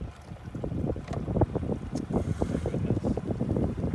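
A digital tiller outboard motor on a fishing boat is shifted into gear, giving a close, continuous low engine churn with rapid rhythmic pulses and wind buffeting, with no talking.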